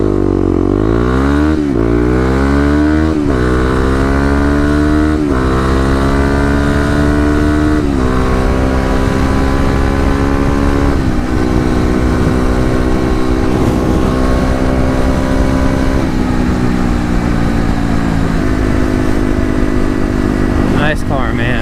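A Kawasaki KLX250 motorcycle engine launches and accelerates hard, loud and close, its pitch climbing through several quick gear shifts, then holding a steady high drone. A rider calls out in the opening seconds.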